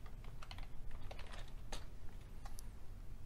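Typing on a computer keyboard, a quick run of light, close key clicks with short gaps, quiet and alone.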